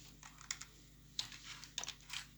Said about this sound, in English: let me just type.